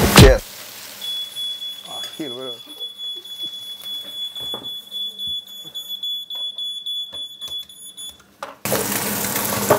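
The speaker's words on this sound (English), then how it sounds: "that was the smoke detecting alarm" In a kitchen where Swedish meatballs are cooking, a smoke detector sounds a steady high-pitched tone through most of the clip, with faint clatter and voices underneath, then running water near the end.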